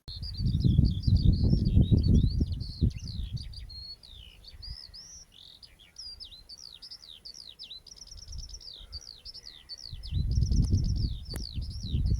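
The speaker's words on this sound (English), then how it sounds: "But just listen to its amazing bird call, like literally like the lark ascending." A skylark sings continuously in display flight, a rapid, high, warbling stream of chirps and trills that carries throughout, over gusts of wind rumble at the start and end.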